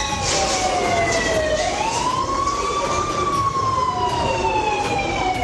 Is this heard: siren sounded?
yes